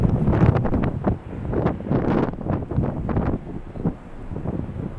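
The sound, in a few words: strong wind at LAX airport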